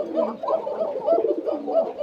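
Koka pigeons at a home loft coo close by in a soft repeated rhythm, about six throaty coos over two seconds with little else around.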